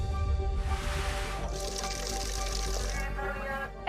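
Water is poured and filled near a source of salty water, a broad rushing, splashing stream that runs steadily throughout, with a voice talking underneath.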